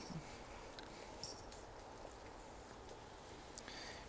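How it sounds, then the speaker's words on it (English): Light rain falls steadily, a soft, even patter with a few louder drops, heard faintly at a distance with no voices. "Enjoying the rain."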